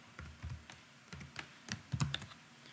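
Keys on a computer keyboard tapped in short, uneven bursts while a security code is entered into a login form, the clicks close and fairly quiet with brief pauses between groups.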